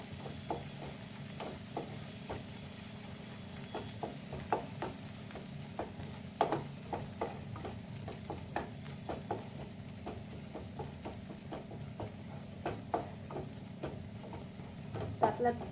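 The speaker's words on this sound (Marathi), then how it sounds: "आपला मसाला तो जोपर्यंत फ्राय होईल" Spice masala fries in a pan for a spicy sev bhaji, with a low constant sizzle under repeated sharp clicks and taps of a spoon stirring against the pan, close and fairly quiet.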